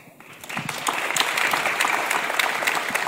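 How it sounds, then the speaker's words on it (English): An audience at a political talk claps loudly and steadily, a dense wash of many hands that swells after a quiet start and keeps going throughout. "You guys are clapping too much."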